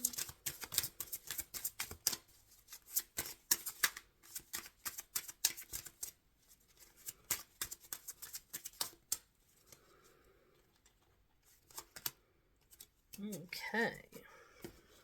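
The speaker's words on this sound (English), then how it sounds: "Shuffling for Pisces." Tarot cards shuffled by hand, rapid riffling and snapping bursts in quick irregular runs for several seconds, close and crisp, pausing before a person speaks at the end.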